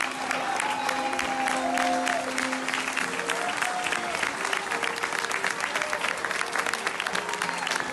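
Audience applause at a live Venezuelan television program in Caracas, honoring a maestro. The clapping is dense and sustained throughout, loud and close, with faint held musical tones underneath.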